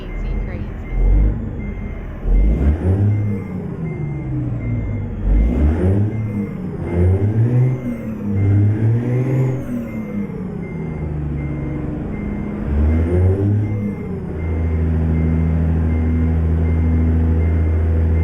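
A heavy truck engine in American Truck Simulator revs repeatedly, each gear pull rising in pitch and then dropping back, ending in a steady, loud idle drone.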